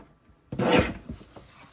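A paper trimmer slices through cardstock during a scrapbook page-kit workshop: one close, rasping slide of about half a second, followed by a few fainter scrapes and taps.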